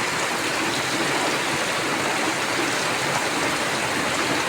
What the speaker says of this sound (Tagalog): hindi na yata to titigil ang ulan.